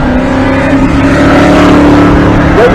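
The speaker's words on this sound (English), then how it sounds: "this is the truck version of that same deal. Modular motor with a supercharger on top of it" A drag racing truck with a supercharged modular V8 roars loudly and steadily up close, holding a dense, unbroken engine drone throughout.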